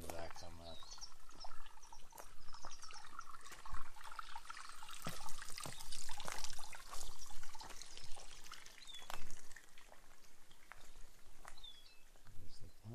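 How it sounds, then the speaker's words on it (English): Water flows and trickles steadily at a pond with a sluice box on a waterfall, splashing softly, with a few brief chirps and bumps over the constant rush. "You can hear the water in the background."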